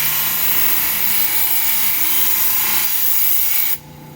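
A tool edge gets a light sharpening pass on a bench sharpener in a workshop: a steady, loud abrasive rubbing hiss that runs unbroken for several seconds, then stops abruptly, leaving a quieter hum.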